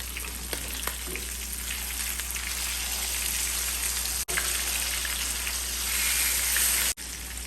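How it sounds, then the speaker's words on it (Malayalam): Fish fries in oil in a pan over a very low flame, giving a continuous, dense crackling sizzle at a steady moderate level, with two brief dropouts and no talking. "തീ തീരെ കുറച്ച് സിമ്മിൽ വെച്ച് തന്നെ ഇത് വറക്കാം"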